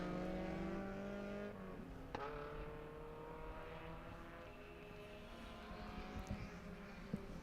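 Lotus race cars run at Sebring, their engines droning steadily at a distance and shifting pitch as they pass, with a constant wash of track noise.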